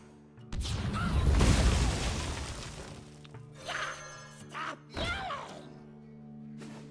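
Dragonfire Potion board-clear effect in the card game Hearthstone: a loud, deep fiery blast swells and rumbles for about two seconds, then fades into a few short thuds and bright chiming game effects, with no voices.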